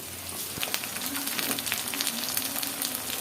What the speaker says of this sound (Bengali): আদা রসুন বাটা হলুদের গুঁড়া মরিচের গুঁড়া ধনিয়ার গুঁড়া জিরার গুঁড়া দিয়ে মশলাটা খুব ভালো করে কষাই নেব